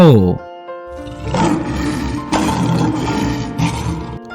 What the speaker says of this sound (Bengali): সিংহ